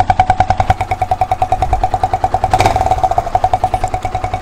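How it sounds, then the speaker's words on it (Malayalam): A motorcycle fitted with a cheap homemade exhaust device idles nearby, loud and steady, with a rapid rhythmic thumping pulse and a brief rise in the revs partway through. "അപ്പോൾ നല്ല അടിപൊളി ഒരു എക്സോസ്റ്റാണ് നമ്മളിപ്പോൾ ഇവിടെ ഉണ്ടാക്കിയിരിക്കുന്നത്."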